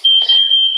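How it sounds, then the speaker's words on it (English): Smoke alarm set off by burned food indoors, a single continuous shrill high-pitched beep, loud and close, with brief muffled background noise. "It's a false alarm. I think they've burned something."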